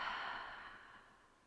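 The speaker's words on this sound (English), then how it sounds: "and exhale fully out the mouth." A person exhales fully out through the mouth in one long, soft breath that fades steadily over about a second and a half, close and quiet with no talking.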